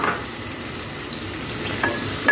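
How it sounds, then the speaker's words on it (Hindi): Onions fry in hot oil over low heat, producing a steady close sizzle with a couple of brief utensil clinks near the end. "इस पर मैं ये प्याज डाल रही हूँ"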